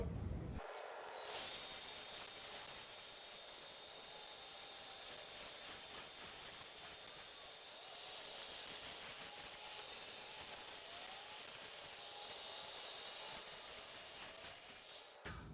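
A quartz countertop edge is polished with coarse-to-fine grit pads on a polisher, giving a continuous loud hissing, spraying whir that runs unbroken for the whole stretch with a slight swell midway.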